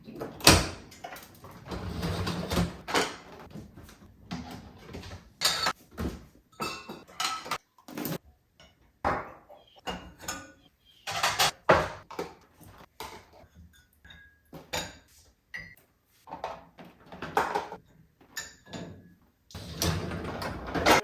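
Clattering kitchen sounds of dishes being put away: repeated clinks of plates and cutlery, cupboard and drawer knocks, close by and irregular, with no talking.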